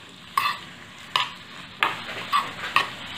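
Salt and red chilli are stirred into green garlic in a pan, with five sharp spoon scrapes and knocks against the pan over a faint background sizzle, close and clear.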